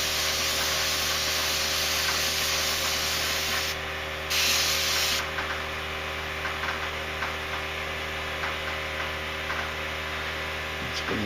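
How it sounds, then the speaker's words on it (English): A spray gun fed by a compressor lays down a first coat of paint on an XR10 part, a loud continuous hiss that pauses briefly once and then resumes over a low mains hum. "It's good enough for the first coat on that one. I don't want to spray too much."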